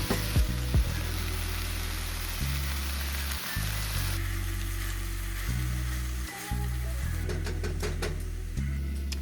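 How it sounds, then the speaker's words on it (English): Beef with sauteed onions sizzles and fries in a pan, a steady close crackle with a few brief stirring breaks and no voices. "now I'm going to cook some beef, some onion powder, pepper,"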